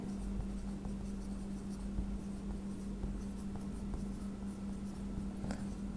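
Steady pen strokes scratching across paper while working out a geometry proof about tangents to a circle, a continuous quiet writing texture with no talking, over a low constant hum.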